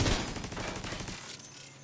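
Rapid bursts of turret fire in The Division 2 video game, a dense loud crackle of shots that drops off abruptly partway through and trails into quieter background.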